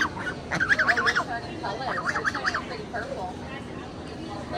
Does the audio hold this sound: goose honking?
yes